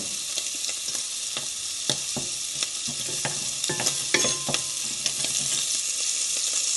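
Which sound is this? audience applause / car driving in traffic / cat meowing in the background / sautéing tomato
sautéing tomato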